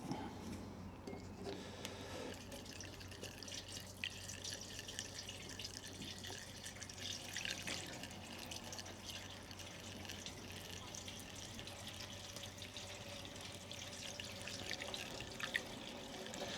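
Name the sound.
fuel being poured into a Lister D stationery engine tank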